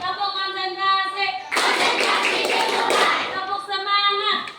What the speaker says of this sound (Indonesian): mari kita tepuk konsentrasi dulu. Tepuk konsentrasi.